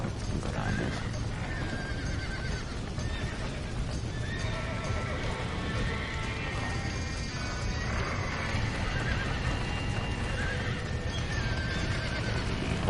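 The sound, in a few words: horse neighing in Red Dead Redemption video game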